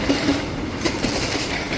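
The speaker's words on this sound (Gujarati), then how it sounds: "આવું છે ભાઈ એ તો બીજી ટ્રેન જાય" A train rumbles past near a bridge outdoors, a steady rolling clatter of wheels on rails holding an even level throughout, with faint repeated clicks and no voices.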